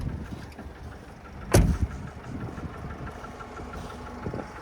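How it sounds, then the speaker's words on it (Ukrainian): A 2013 Nissan Primastar 2.0 diesel van engine idles with a low, even hum, broken once by a sharp knock near the start. "Ну реально, от послухайте роботу мотора"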